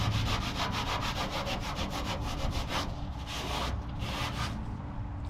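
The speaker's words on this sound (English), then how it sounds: "then I'm gonna scrub it and see what happens." Foam cleaner is scrubbed on a hearse surface during a deep clean, producing close, loud, rhythmic rubbing strokes that repeat quickly and then slow into a few separate scrubs toward the end.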